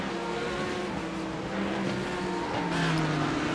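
GT3 race cars in an iRacing league race, a steady loud engine drone with layered droning tones as several cars run side by side, pitch shifting slightly as they push through a corner.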